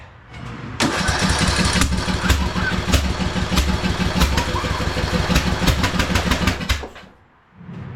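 A Husqvarna YTH2042 lawn tractor engine cranks and catches, then runs loud and close with an uneven, rough pulsing idle for several seconds before cutting out, with the throttle rising again briefly at the end.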